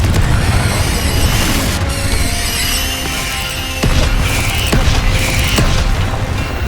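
A loud Confringo blast in Hogwarts Legacy PS5 gameplay brings dense, continuous crashing and rumbling noise, with heavy thuds and creaking debris-like clatter throughout. No voices are heard.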